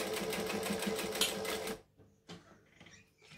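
Sewing machine stitching a line along a bag strap at a strap adjuster, a steady close rapid mechanical whirr for under two seconds, then stopping to quieter handling clicks and rustles.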